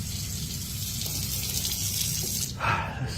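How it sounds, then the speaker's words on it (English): A kitchen faucet runs with a steady splashing stream into a sink, close and moderately loud, the flow surging a little stronger near the end. "First, he notices that the kitchen faucet turns on by itself."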